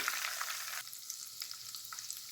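Spring roll filling sautéing in a pan, a soft steady sizzle with faint stirring scrapes, quiet and continuous with no talking.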